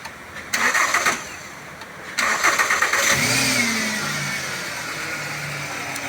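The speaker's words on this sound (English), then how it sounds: "Start the engine." A car engine cranks in two short bursts during a charging system test, then catches and rises into a steady idle that gradually settles.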